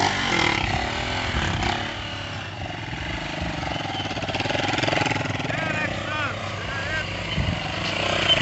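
A motorcycle engine revs and drones steadily during a wheelie on a rainy day, rising and falling in pitch, with someone talking over it.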